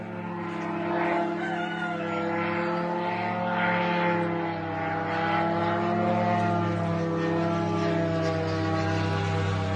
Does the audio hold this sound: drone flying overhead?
yes